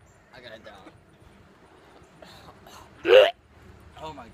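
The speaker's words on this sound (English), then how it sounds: "I got the hiccups." A single loud hiccup from a person after eating habanero peppers, with quiet muttering speech before and after it.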